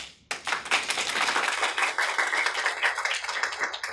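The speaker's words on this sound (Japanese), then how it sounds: "無理やり拍手をさせました。" A small group of people claps at once for about four seconds, close and fairly loud, a burst of quick overlapping claps that starts suddenly and tapers slightly at the end.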